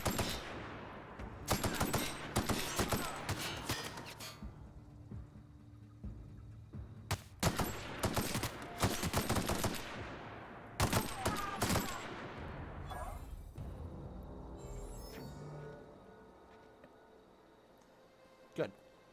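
Repeated bursts of automatic gunfire from the video game The Outer Worlds rattle loudly in several volleys, each trailing into a fading echo, with someone speaking between them.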